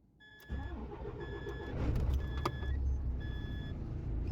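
A car engine cranks and catches, settling into a low idling rumble, with a repeating chime from the dashboard pulsing over it.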